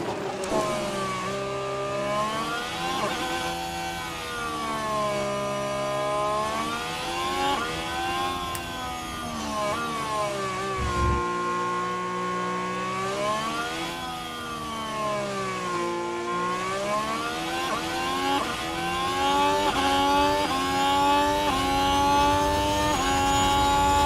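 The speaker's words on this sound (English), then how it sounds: "Listening to our engine" Formula 1 car engine in the F1 Manager game revs loudly and continuously, its high harmonic whine rising and falling through gear changes and throttle lifts for the whole stretch, with no talk.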